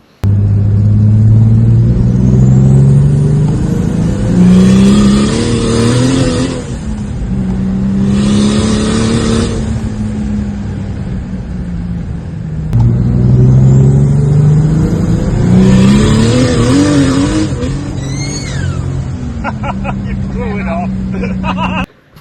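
A 500 kW sleeper car accelerating hard, its engine roaring loud and close through two long pulls with rising, wavering pitch and brief dips between them.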